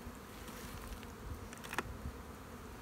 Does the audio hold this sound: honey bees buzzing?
yes